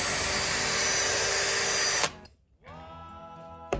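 A power drill cuts into an old, rusty Skutt kiln with a loud, high-pitched whine for two seconds. It briefly stops, then spins back up to a lower, steadier drone.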